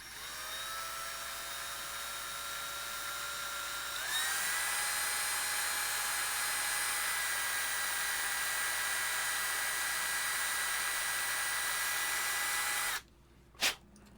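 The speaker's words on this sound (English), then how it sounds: "And we drill." A power drill bores a pilot hole with a steady, close, high whine that climbs in pitch after a few seconds, holds for about nine more, then stops abruptly, followed by a single sharp click.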